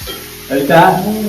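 Onion and ginger garlic paste sizzle in hot oil in a frying pan. A brief, close hiss swells midway while a voice speaks over it.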